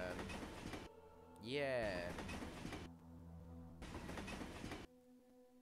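A train runs in a spooky Minecraft castle map, a steady mechanical rumble with a rising whistling tone partway through, heard faintly under a voice that talks over it.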